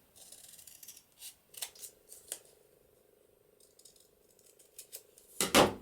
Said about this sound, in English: I'm just going to cut a little bit off